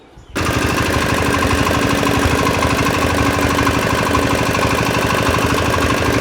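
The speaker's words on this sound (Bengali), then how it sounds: "সুন্দর ইঞ্জিন একদম খোলা ফিটিং নাই আর সাউন্ড আপনারা ভালো করে দেখেন" An old diesel engine, open with no fittings, starts abruptly and runs loud with a fast, rough, hammering knock, steady and close throughout.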